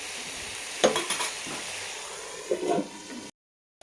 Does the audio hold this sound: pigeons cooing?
no